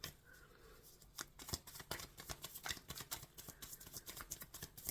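Tarot cards being shuffled by hand, a quick run of crisp riffling flutters and soft taps in an irregular rhythm, close and fairly quiet with no talking.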